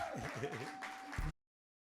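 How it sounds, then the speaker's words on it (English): Audience applause at the close of a live comedy stage show, a steady wash of many hands clapping with a tone and voices mixed in, ending abruptly in silence. "Give them all a round of applause as we leave with love"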